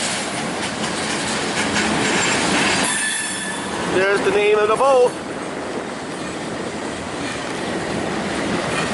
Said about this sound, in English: Yes, there's a train going by